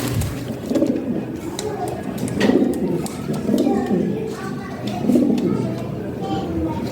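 Fancy pigeons, Lahori Sirazi birds kept for sale, coo in low, repeated throaty rolls that pulse steadily through the enclosure, with other pigeons murmuring and fluttering close by.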